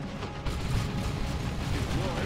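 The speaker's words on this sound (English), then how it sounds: "And here comes some bombs." Bombs exploding in the strategy game Dawn of War 2 during an Orks battle, a continuous loud rumbling barrage of blasts and mechanical clatter with no clear pauses.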